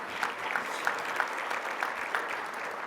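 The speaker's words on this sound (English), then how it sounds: "yes, we'll take applause." Brief applause from an awards-ceremony audience, a moderate steady patter of many hands with a few sharper claps standing out at regular moments.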